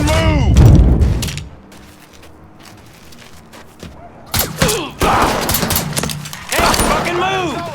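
Gunfire in Mafia III: bursts of shots and heavy thuds come in irregular clusters, loud and close, with shouting voices mixed in between volleys.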